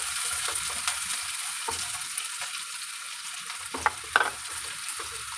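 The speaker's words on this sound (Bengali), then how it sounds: "পেঁয়াজ কুচিটা আবার ভালো করে ভেজে নেব" Chopped onion fries in hot oil with dried red chilli, five-spice seeds and bay leaf, giving a steady hiss with a few soft stirring clinks and scrapes near the end.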